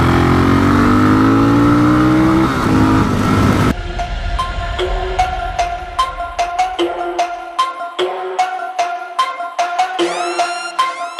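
A Suzuki DRZ400SM supermoto engine climbs through its gears in a rising howl, then drops to a pulsing, popping idle with a series of crisp blips close by.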